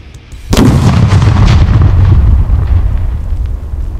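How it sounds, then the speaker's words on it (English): A one-pound exploding target of low-velocity mix, shot at a range, detonates with a single loud, close boom that rolls on into a long rumbling decay. "now for the exploding target, see if we can get it."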